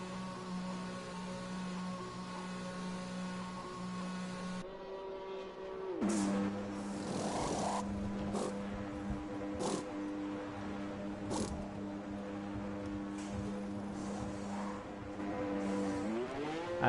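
Formula 1 car engines in F1 2021 at Silverstone, a steady high-pitched whine that jumps in pitch as a McLaren accelerates away. Sharp gear-shift changes cut through the sustained engine drone, loud and continuous.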